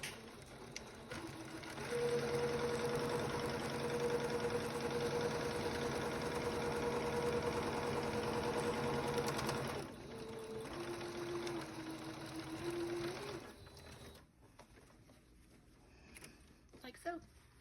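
A sewing machine stitches a fabric casing in a steady close whir of fast needle strokes that holds for several seconds, then slows briefly and stops, leaving faint handling sounds.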